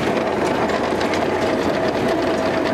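An old 1959 Willys CJ3B High Hood jeep engine, restored after sitting 20 years, runs at a steady idle with a fast, even mechanical chatter that stays loud and close throughout.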